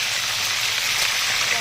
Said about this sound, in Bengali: প্যানেতে তেল গরম হওয়ার সাথে সাথে পিসগুলো দিয়ে দিচ্ছি ভাজার জন্য